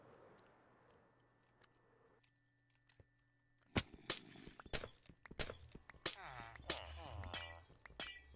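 Glass blocks being broken in Minecraft, a run of sharp crunching shatters in quick succession after a quiet start with faint ambient hum, loud and close.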